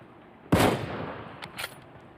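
A single sharp Kar98 rifle shot in a video game, a loud close crack with a short decaying tail and a fainter echo just after.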